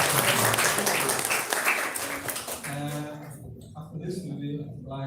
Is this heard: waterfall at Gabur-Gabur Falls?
no